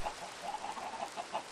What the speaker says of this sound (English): let's feed some more chickens